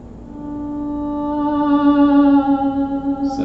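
A D-Lev digital theremin controlled through its volume field sustains one steady, harmonic-rich tone that swells gradually louder over a few seconds, played alone with no voices.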